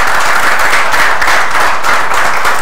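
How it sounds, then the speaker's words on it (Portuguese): Dense, steady applause from a live debate audience in Franca, Brazil, greeting vice-mayoral candidates. Many hands clap continuously and loudly for the whole stretch with no speech over it. "uma salva de palmas aos candidatos presentes"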